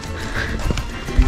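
Horses on a tourist trail at Wonchi Crater Lake in Ethiopia, hooves clopping in an uneven walking rhythm close by, with outdoor background noise and a louder thud at the end.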